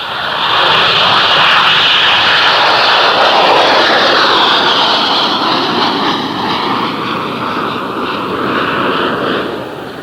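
A Hawker Harrier jet roars loudly and steadily for about ten seconds, a broad sustained engine wash with a slowly shifting whine, no voices over it.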